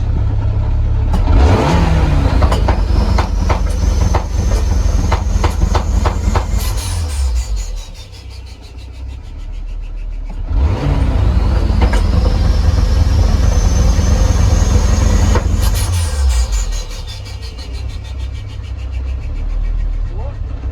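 A 1.8T-swapped Toyota MR2 Mk3 with anti-lag, the engine droning loudly and steadily close by, two long surges rising and falling in pitch, with people talking over it.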